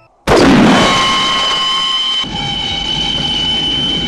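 A train pulls into a station, its loud, close rumble starting abruptly and holding steady with sustained metallic wheel squeal and brake tones running throughout, with no talking.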